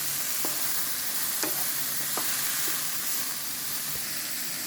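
Broccoli being stirred and tossed in a hot pan for a Chinese-style garlic sauce dish, a steady sizzling hiss with soft scraping strokes at a moderate level, no talking.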